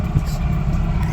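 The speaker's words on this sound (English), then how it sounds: "you hear these Cat diesels" Caterpillar diesel engines on a tour boat produce a steady, loud, low rumble heard up close for a brief moment, with no break in the drone.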